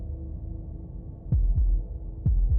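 Two deep lub-dub heartbeat pairs thud close and loud over a low hum in the Slay the Princess video game, spaced about a second apart.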